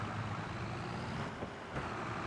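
Tractor engine in the video game Farming Simulator 22, a low steady diesel drone at moderate level with faint mechanical rumble and a brief dip partway through.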